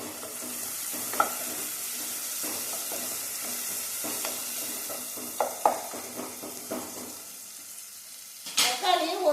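Tomatoes sautéing in oil with salt in a pan give a steady, moderate sizzle close by, broken by occasional spoon scrapes and taps on the pan, with a louder clatter near the end.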